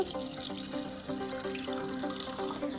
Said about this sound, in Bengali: আমি ফুলকপিগুলো প্রেসার কুকারের মধ্যে দিয়ে দিয়েছি, আর দিয়ে দিচ্ছি জল